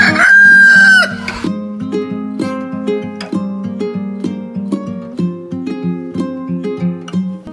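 A rooster crows once loudly and close at the start, a drawn-out cock-a-doodle-doo, followed by gentle instrumental music playing alone.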